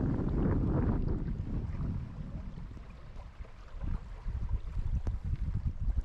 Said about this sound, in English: And back to full sail now. Wind comes and goes.